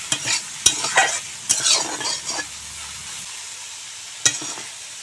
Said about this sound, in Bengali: আমি সামান্য হলুদ গুঁড়া আর সামান্য লবণ দিয়ে সয়াবিন ভেজে নেব।